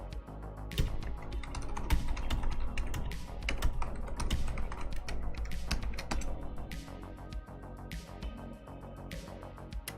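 Fast, continuous typing on a clicky computer keyboard, dense rapid keystrokes close up with occasional heavier thumps like spacebar or enter presses, and no talking.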